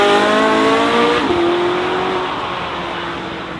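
Bugatti open-top car with a W16 engine accelerating hard at Goodwood, a loud, close engine note that rises through gears with a brief shift dip, then fades slightly as it pulls away.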